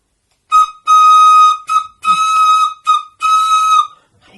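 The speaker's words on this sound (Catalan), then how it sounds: "tot el dia anava per tot el poble tocant el seu xiulet" A toy whistle blown in a series of bright, shrill toots, some short and some held longer, loud and alone against silence.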